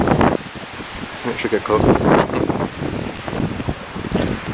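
Strong cold wind blows outdoors on a cold windy day as steady, loud broadband roaring and buffeting against the microphone, with a person talking throughout over it.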